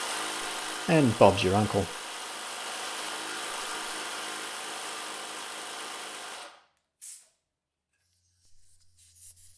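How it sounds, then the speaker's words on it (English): A Ryobi cordless pump hums steadily while inflating a motorcycle tyre, a close continuous motor drone that cuts off abruptly when the set pressure is reached, preceded by short mechanical clicks and followed by someone speaking. "The pump stops as soon as the correct pressure is achieved, so it's really easy. Just clamp it on, press the button"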